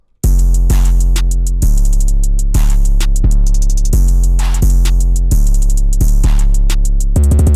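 Spinz 808 bass with fast distortion in an FL Studio beat, loud booming sliding bass notes that sustain under crisp hi-hat rolls and snare hits, playing continuously in a steady pattern.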